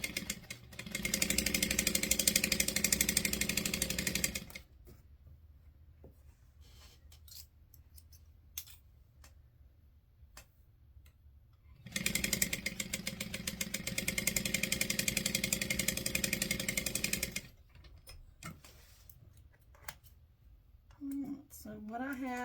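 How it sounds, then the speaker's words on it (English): A domestic sewing machine stitches down both sides of 5-inch quilt squares of background and print fabric for a diamond chain quilt, running in two loud, steady bursts of several seconds each with quieter handling in between. "I've just sewn down both sides of my 5-inch square"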